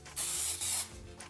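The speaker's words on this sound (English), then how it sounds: "we're gonna spray our cake pan with some Pam non-stick spray" Pam non-stick cooking spray hisses into a cake pan in two quick bursts, the first slightly longer, close and loud, followed by a faint short puff.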